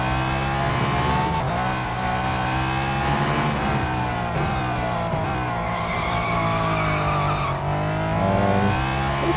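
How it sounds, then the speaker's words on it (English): An Aston Martin's tires skid and squeal across the Nürburgring track in a racing video game, a loud, continuous screech layered over a droning engine for the full stretch. "Looks like we have to warm up the tires as well as I skid"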